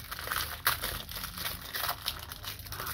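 A Topps Animax Naruto trading card pack is torn open close up, giving soft crinkling and foil tearing that rustles on and off for a few seconds without speech.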